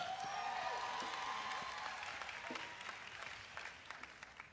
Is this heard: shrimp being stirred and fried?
no